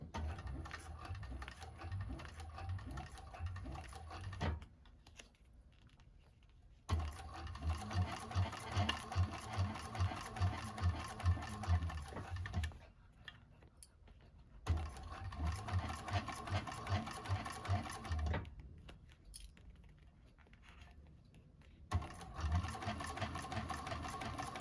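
Sewing machine stitching a handbag of waterproof canvas, running in several steady bursts of rapid, even needle strokes separated by short pauses, close and clear with no talk.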